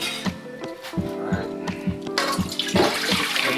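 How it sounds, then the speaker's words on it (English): Water poured into a pot of chicken broth on a high flame to start a duck noodle soup, a steady splashing stream with repeated low thumps, close and fairly loud. "Now, then we'll add some more water to start off the soup."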